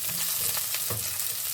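Long green chilies fry in a pan of seafood with papaya and malunggay, giving a loud, steady sizzle with soft stirring scrapes and one brief crackle.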